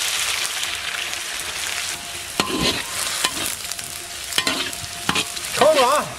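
Chili shreds stir-fried in hot rendered goose fat, a continuous close sizzle with repeated scraping strokes of a spatula against the wok, loud and steady, ending in a brief squeaky scrape.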